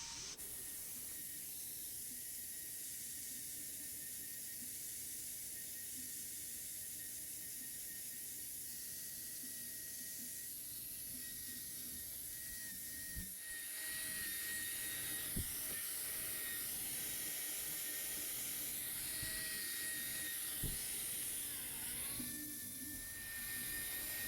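A hoof trimming wheel grinds a cow's affected claw, giving a steady, loud, hissing whine that runs throughout and roughens and intensifies in the second half.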